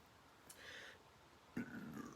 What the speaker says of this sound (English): Pardon me, energy burp there.